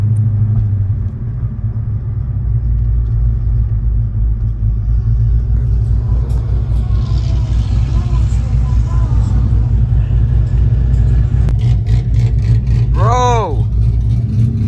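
A cammed truck engine rumbles loudly and continuously with a deep, lumpy idle, rising in revs now and then; a voice briefly shouts near the end.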